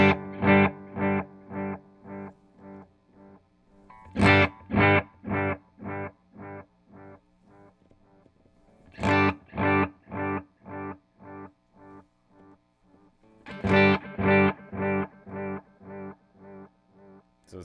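Electric guitar run through a Strymon Brigadier delay pedal with modulation engaged, three strummed chords each trailing a string of warbling, pitch-wobbling repeats that fade out, loud and alone with no talk.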